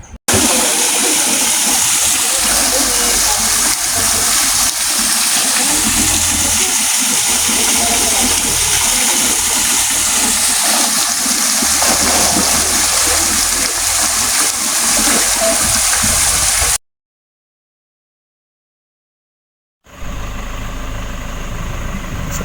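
Waterfall and river at Valley River Falls in Bongabon, Nueva Ecija, pouring as a loud, constant rush of water that cuts out abruptly near the end, then resumes more faintly.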